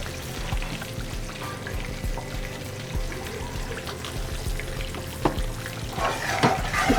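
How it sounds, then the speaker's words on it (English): Butter melting in a pan after rice has been cooking, a steady close sizzle with occasional stirring scrapes, louder and more spattery toward the end, no talk. "Get this butter nice and melted"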